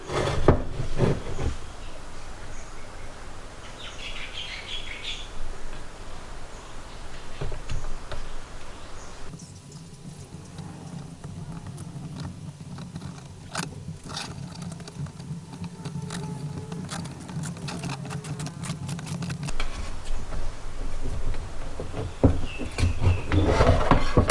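A thin, flexible blade scrapes the side panel of a Keeway Superlight 200 motorcycle during a rebuild, giving close, irregular ticking and rubbing strokes that continue throughout without any speech.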